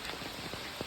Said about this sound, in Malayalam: മഴ കാരണം